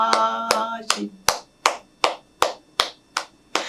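A church congregation claps in a steady, even rhythm: about ten sharp, close claps at a brisk pace, a short sung or spoken voice fading under the first few.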